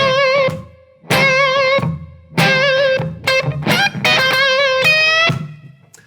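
Electric guitar plays a slow blues lick in C in 12/8, with sustained bent notes in phrased bursts separated by short gaps, loud and close with no talking.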